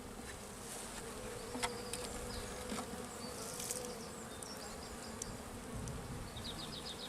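Honeybees buzzing at a small hive at the end of winter, a dense steady drone of many insects close by with a few louder passes, and no talk.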